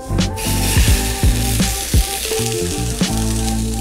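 Salmon fillet frying skin-side down in hot oil, a loud close crackling sizzle with sharp pops and bursts of spatter throughout.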